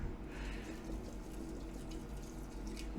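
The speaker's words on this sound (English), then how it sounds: "Start rinsing with the cold water." Cold tap water runs steadily over silver crystals being rinsed, a soft continuous splashing stream heard up close without talk.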